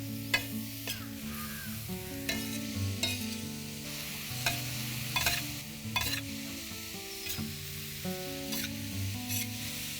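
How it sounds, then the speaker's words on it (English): Mixed leafy greens stir-frying on an Indian tawa, a steady crackling sizzle with regular scraping strokes of a spatula, close by, over a quiet background of music-like tones, no speech. "Let's mix all of this well, and this is literally like a stir-fried vegetable, of course Indian tawa style."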